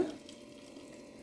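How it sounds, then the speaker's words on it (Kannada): A short burst of water splashes and swirls inside a mixer grinder jar as it is rinsed, loud at first, then settling into a steady rush. "ಸ್ವಲ್ಪ ಮಿಕ್ಸಿ ತೊಳೆದು ನೀರು ಹಾಕ್ತಾಯಿದ್ದೀನಿ"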